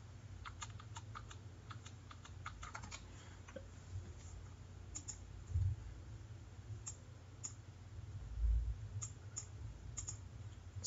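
Quick, light keystrokes on a computer keyboard tap out a run of digits in a soft, steady patter, close and quiet, with a couple of duller thumps between them and no voices.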